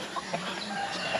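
Farm birds at feeding time give scattered short clucks and soft calls against a steady outdoor background, fairly close with no speech.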